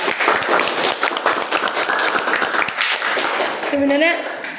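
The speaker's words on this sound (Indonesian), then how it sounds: "boleh tepuk tangan dulu semuanya" Applause from the audience of a school podcast session on bullying, a dense patter of clapping that fills the room for several seconds and softens near the end.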